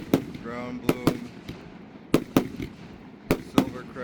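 Firecrackers of assorted kinds go off in a firecracker comparison, several sharp loud bangs spaced irregularly, some in quick pairs, with faint ringing and quiet gaps between.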